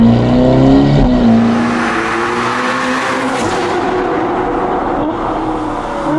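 Ferrari sports car, a Portofino M or Roma fitted with a Novitec exhaust, revving hard up close, a loud sustained rising engine note with harmonics that climb and then settle into a steady roar.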